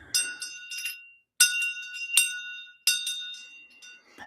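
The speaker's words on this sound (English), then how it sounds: "the shang bell" A Tibetan shang bell, used in Chod ritual practice, rings out clearly in three bright, shimmering metallic strikes, each left to ring and fade with nothing else heard around it.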